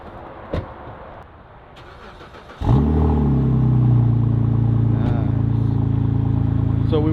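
A BMW E90 car engine with a welded differential cranks and catches, then settles into a loud, steady idle that continues to the end after a few quiet clicks.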